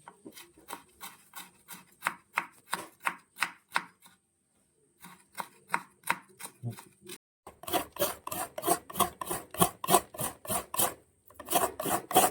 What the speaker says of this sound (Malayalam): ഒരു മുറി തേങ്ങ ഇതുപോലെ ചെറുതായിട്ട് ചിരകി എടുക്കുവാണ്